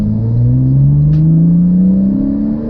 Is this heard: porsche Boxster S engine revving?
yes